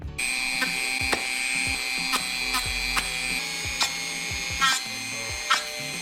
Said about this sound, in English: So what I've been doing is when I get to the edge, I flip it around and I Dremel backwards.